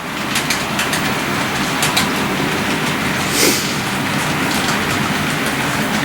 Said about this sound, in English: the train would come into this town right here and the train would stop